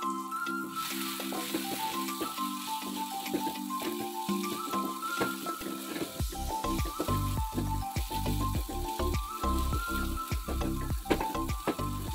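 Garlic and chili seasoning paste sizzles steadily as it is sautéed in a pan for a cireng filling, with a continuous frying hiss and occasional stirring under background music.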